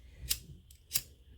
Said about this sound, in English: And now we'll cut the ends off there.